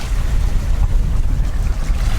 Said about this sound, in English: we are now slowly sailing towards the island